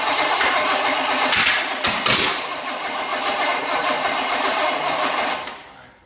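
A small block Chevy V8 cranks and catches with throttle held, a loud close starter whir and sputter rising into a rough running roar before fading out at the end.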